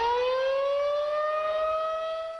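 A tornado warning siren in Kalamazoo wails steadily, its tone slowly rising and holding, loud and sustained with no other sounds.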